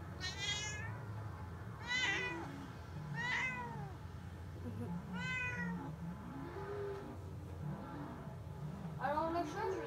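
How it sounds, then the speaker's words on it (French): A cat meows repeatedly, several drawn-out cries spaced a second or two apart, close by, over a steady low rumble like an idling engine. "Regardez mon chat."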